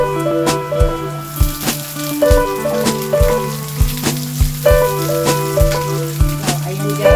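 Onion frying in a pan while cooking ginataang labong at saluyot, a steady close sizzle with sharp scraping and tapping of a utensil recurring about every half second.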